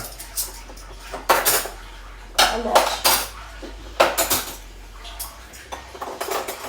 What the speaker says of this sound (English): I'm putting away some of the dishes because there is a lot of dishes to put away